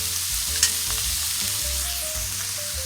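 Ground beef for a cheeseburger casserole sizzles steadily in a pan while smoked paprika is stirred in. The frying hiss stays constant with soft scraping strokes and a low hum underneath, and no one speaks.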